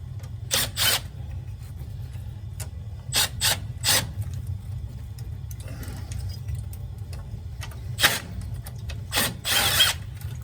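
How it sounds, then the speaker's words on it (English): Metal tools work on a Honeywell heating zone valve being taken apart, giving sparse, close clicks, clanks and short rattles in irregular bursts over a low background hum. "I am going to take apart the second zone valve."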